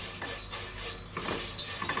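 Semiya vermicelli fries in ghee in a pan while a utensil stirs and scrapes, close clinks and scrapes over a soft continuous sizzle, no talking.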